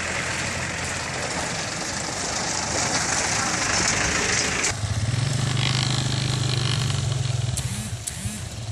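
A motorcycle engine running while riding over a damaged rural road, a loud continuous rumble that shifts into a steadier droning note partway through, close to the microphone.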